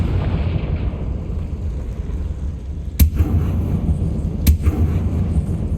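Confringo fire spell from the Hogwarts Legacy video game going off in a spider-infested catacomb: two sharp, loud explosive bursts a second and a half apart over a steady low rumbling game ambience.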